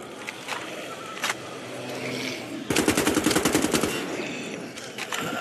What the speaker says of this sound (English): Did I just shoot that one zombie's head off?